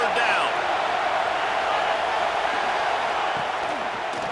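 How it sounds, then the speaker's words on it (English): A stadium crowd in the EA Sports College Football 26 video game cheers on third down, a steady, dense roar that holds at an even level throughout. "Decibels rising as the crowd gets behind this defense on 3rd down."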